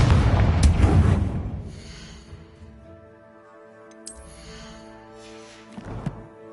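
A Confringo fire spell explodes in the Hogwarts Legacy video game: a loud, booming blast at the start that rumbles and fades over a couple of seconds, followed by a softer magical shimmer and a second smaller burst near the end.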